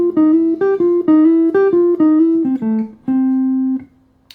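Guitar slowly picking the melodic phrase from a scat solo, a run of clear separate notes ending on one held, ringing tone.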